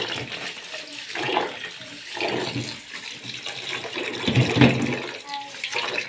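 Tap water runs into a kitchen sink while rice is washed, a continuous splashing rush that swells and ebbs with handling, close by, under casual conversation.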